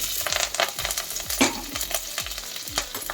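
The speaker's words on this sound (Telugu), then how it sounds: "తాలింపు గింజలు చిట్టపటమన్న తర్వాత పచ్చిమిరపకాయలు అలాగే కరివేపాకు" Tempering seeds, green chilies and curry leaves frying in hot oil, a loud crackling sizzle broken by sharp pops and spatters in quick irregular bursts.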